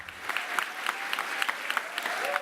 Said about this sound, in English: Today he arrived in Westminster to the kind of applause usually reserved for a head of state.